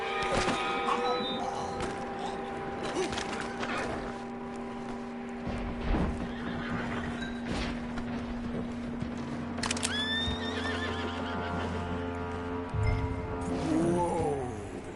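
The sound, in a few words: horse neighing and hooves clopping, video game Red Dead Redemption II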